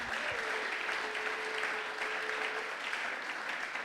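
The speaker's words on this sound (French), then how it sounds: "Est-ce qu'on peut acclamer le Seigneur?" A church congregation bursts into sustained applause for the Lord, a dense wash of clapping from many hands that holds steady, with a single held tone ringing beneath it for a couple of seconds.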